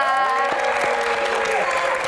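An audience of university students claps steadily in a hall during a Q&A event for a band, a dense, even applause lasting throughout, with a voice speaking over it.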